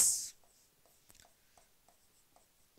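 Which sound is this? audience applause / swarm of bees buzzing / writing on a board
writing on a board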